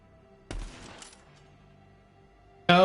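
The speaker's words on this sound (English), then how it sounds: "Shoot the fuel tank?" Video-game gunfire aimed at a fuel tank: a short rattling burst of shots, a quiet stretch with faint hum, then another loud burst erupting at the very end.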